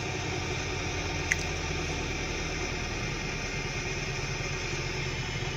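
Hyundai Accent engine running at high RPM with a misfiring, jerking condition, a steady loud mechanical drone with a brief click partway through.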